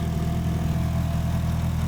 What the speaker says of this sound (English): So car is running, everything looks good.